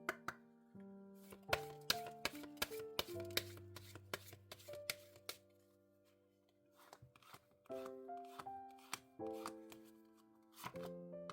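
A deck of oracle cards is shuffled by hand, giving soft riffling and slapping bursts against gentle background music, the card sounds coming in uneven clusters.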